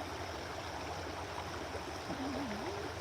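Brodhead Creek runs over rocks in a steady, even burble and rush close by, with a faint tonal wavering near the end and no talk.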